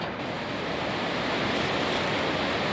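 River water rushes steadily past a dam while running high, a loud, continuous broadband roar with no pauses or voices.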